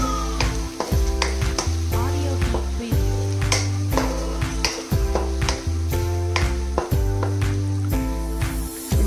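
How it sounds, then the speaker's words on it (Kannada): Cinnamon and cloves frying in hot oil for masala rice: a loud, continuous sizzle with repeated rhythmic clinks and scrapes of a spoon stirring in the pan throughout. "ಇವಾಗ ನಾನು ಚಕ್ಕೆ ಮತ್ತು ಲವಂಗವನ್ನು ಆ್ಯಡ್ ಮಾಡ್ತಿದ್ದೇನೆ. ಇದನ್ನು ಇವಾಗ ಫ್ರೈ ಮಾಡಿಕೊಂಡ್ರೆ ಆಯಿತು."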